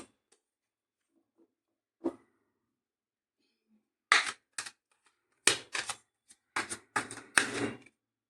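Tarot cards are drawn from a deck and set down in quiet, sharp taps and shuffling flicks that come in short clusters after near silence, close to the microphone.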